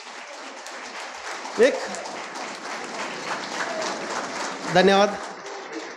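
Audience at a cricket tournament prize distribution ceremony applauding, a sustained wash of clapping under someone speaking over a microphone.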